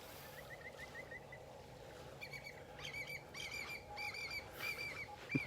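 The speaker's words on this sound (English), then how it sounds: "There was a willet. You heard screeching, a willet bird." Several shrill, repeated screeching calls from a willet on a beach in North Naples, Florida, come in bursts over a steady wash of surf and wind.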